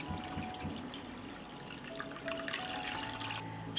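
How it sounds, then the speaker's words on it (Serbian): Water pours steadily into a cooking pot lined with a cloth and holding glass jars, a soft continuous trickle and splash that brightens toward the end. "Sipaću vodu u šerpu do visine poklopca."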